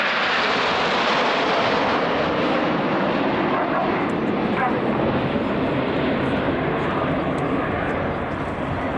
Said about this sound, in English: as the guys fly past in the famous Diamond formation